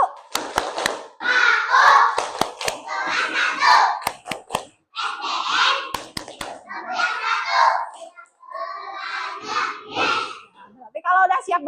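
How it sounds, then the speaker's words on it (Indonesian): A primary school first-grade class performs a clapping chant, children shouting rhythmic phrases together in bursts punctuated by sharp, unison hand claps, loud and close in a classroom. "Coba Ibu mau dengar dulu tepuk kelas 1-nya."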